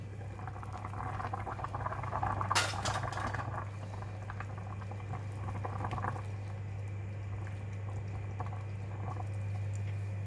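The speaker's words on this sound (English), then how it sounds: "Alright, it's boiling." Tofu soup bubbles and simmers steadily in a pot, with a low hum beneath and a brief clatter early on.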